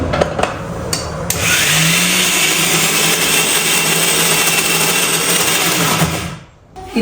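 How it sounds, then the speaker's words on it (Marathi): A kitchen mixer grinder grinds lentils for dahi vada: a loud, steady motor whir with a grinding rasp starts after a second of small clatter, runs continuously for about five seconds, then cuts off. "ही जी डाळ आहे ती आता आपण वाटून ठेवू"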